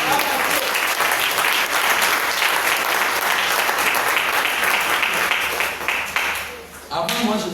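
Congregation in a church service applauding the Lord, loud sustained clapping from a full room that thins near the end as a voice comes in.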